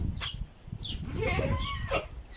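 Goats on a farm in Saudi Arabia bleat nearby in a few wavering, nasal calls over a rough, rustling background.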